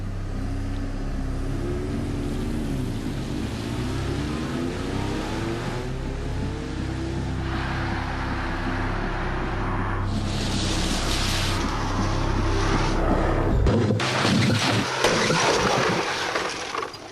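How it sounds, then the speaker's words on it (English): A remote-controlled three-star NCAP small car driven at 70 mph into concrete blocks: a steady loud engine and road rumble builds, then a sudden harsh crash of impact near the end. "Another remote-controlled 3-star NCAP car, 70 miles an hour into concrete blocks."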